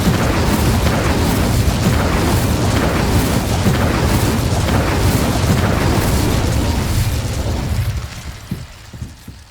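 Incendio fire spell blasting in Hogwarts Legacy, a loud, dense roaring whoosh of flame that holds steady for several seconds before tailing off into quieter crackles.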